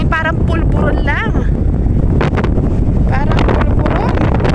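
Strong wind buffets the microphone in a constant roar while waves crash at Merimbula Beach in Australia, loud throughout, with a voice talking over it.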